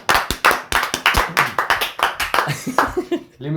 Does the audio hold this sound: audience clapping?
yes